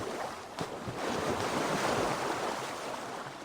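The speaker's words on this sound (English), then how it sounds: "I wonder why the splashing sound for this particular part of the river is so loud" Loud, continuous rushing and splashing of river water in the video game Assassin's Creed Valhalla, a broad steady wash that swells slightly toward the middle with no voices.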